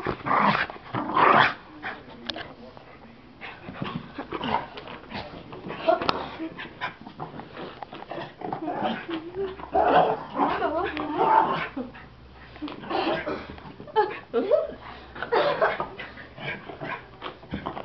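A dog barks, growls and whimpers excitedly in repeated bursts close by, with people talking throughout.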